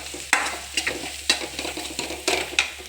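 Chicken masala powder is stirred into a mixture in a pan, with repeated scraping strokes of a spoon every half second or so over a light sizzle, close and clear with no talking.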